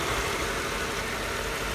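A 2004 Mercedes-Benz E500 with its V8 idles steadily up close, giving a smooth, even low hum with no change in speed across the short stretch.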